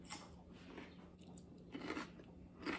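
Close, crisp crunching bites and chewing of cucumber slices seasoned with celery salt, several crunches over a few seconds with no talk.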